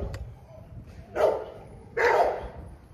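An 11-week-old blue XL pitbull puppy with a big chest barks twice, about a second apart, each a short, fairly loud yap close by against a low background rumble.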